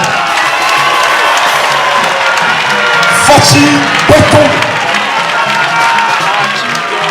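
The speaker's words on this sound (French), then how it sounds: "Est-ce qu'on peut applaudir pour le président, s'il vous plaît?" A large audience applauds and cheers for the president in a loud, continuous wash of clapping, whoops and shouts, with a voice calling out briefly amid the noise.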